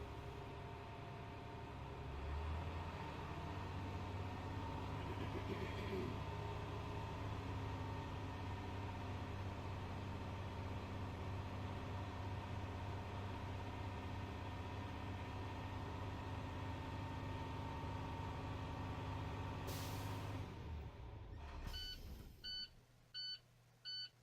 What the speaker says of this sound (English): Start the bus to build pressure.